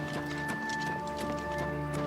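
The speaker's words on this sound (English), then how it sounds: "Aha, my black horse." A black horse in Oblivion Remastered, with soft rhythmic hoof clip-clops over a steady hum of game ambience and music; a faint neigh may be present.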